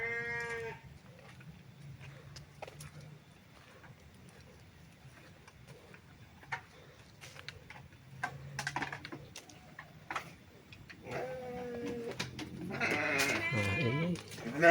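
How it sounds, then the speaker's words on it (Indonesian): Goats bleating in a villager's goat pen, scattered faint bleats early on building to louder, closer overlapping calls near the end, with rustling and clattering between and a quiet voice in places. "ternyata ini cuma kandang kambing milik warga"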